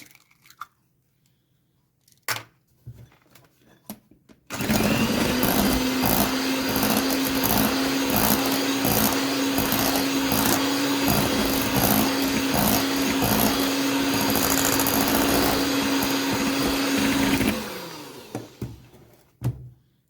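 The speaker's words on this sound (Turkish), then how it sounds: "Bunları 1-2 dakika kadar çırpıyoruz." An electric mixer whisks San Sebastian cheesecake batter, switching on after a few soft knocks and running loud and steady with a constant high whine and a faint rhythmic rattle, then cutting off near the end.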